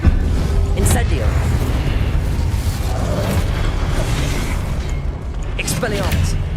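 Incendio fire spell blasts cast in Hogwarts Legacy: a few booming, crackling bursts over a dense, continuous game din, with a voice talking over them.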